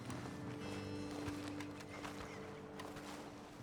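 Horses in the video game Red Dead Redemption II clip-clopping at a steady walk over a constant low hum, hooves close and moderately loud throughout.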